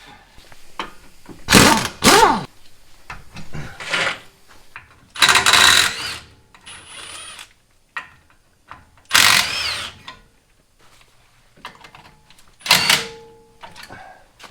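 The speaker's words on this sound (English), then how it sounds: "Let's wrench that up and off." Wrench and power-tool work loosening a bolt during a Dobinsons lift kit install, heard as several loud bursts of whirring and ratcheting spaced a few seconds apart, with quieter clanks between them and no talk.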